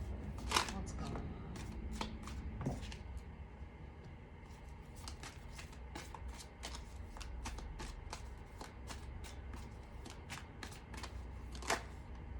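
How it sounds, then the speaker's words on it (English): Tarot cards are shuffled and laid out, giving rapid riffling bursts and sharp, close slaps as cards are flicked down one after another, with a voice speaking softly under it. "I'll get all the cards out first."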